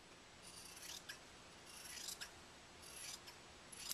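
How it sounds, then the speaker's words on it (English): Scissors cutting through quilt binding fabric along a drawn line, several soft rasping snips in a row, close and quiet with no talking. "we're just going to cut along that line"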